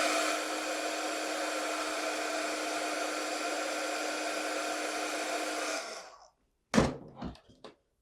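A hair dryer blows steadily on watercolor paint in a journal for about six seconds, then switches off. A few quick thumps follow after it stops.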